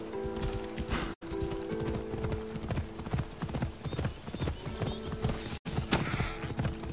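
Horse hooves clip-clop steadily at a walking pace in the video game Assassin's Creed Odyssey, loud and close over a dense game soundscape, with a brief whinny possible and no speech over it.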